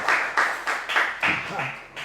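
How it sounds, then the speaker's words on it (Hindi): Students in an auditorium break into bursts of applause, with clapping that swells and fades in short waves, loud and close, blended with some voices. "सबसे पहले तो संजय सहाय सर का एक जोरदार तालियों से अभिनंदन व्यक्त करें"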